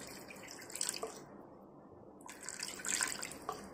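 Water pours into a pressure cooker holding mutton nalli with chilli powder, turmeric and salt, in two short splashing streams, close and fairly soft, with no speech.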